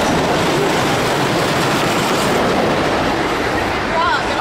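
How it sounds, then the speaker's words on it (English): The Grizzly roller coaster train at Kings Dominion rumbles past on its track, a loud, steady roar with clattering wheels filling the whole stretch. "And here, the train's about to come around this turn."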